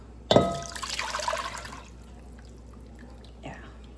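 Liquid splashes into a pot of uncooked rice in a single close pour lasting about a second and a half, then trails off into quiet with a small drip near the end.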